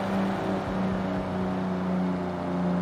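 Car engine in the Forza racing game holds a steady, loud drone with strong harmonic tones, sounding like a motorbike engine, running continuously throughout with no talk.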